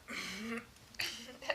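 A woman clears her throat indoors in two short, close, rasping bursts with a brief pause between them.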